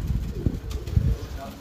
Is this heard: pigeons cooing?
yes